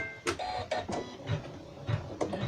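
A sewing machine stitching a fabric coaster, giving bursts of mechanical whirring and clicking, close and fairly loud, broken by short pauses.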